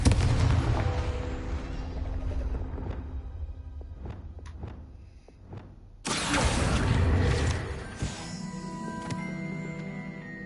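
Confringo spell blasts in Hogwarts Legacy go off as explosive bursts. Sharp cracks are followed by a sudden loud roaring blast that lingers as rumbling and crackling debris, with no talk.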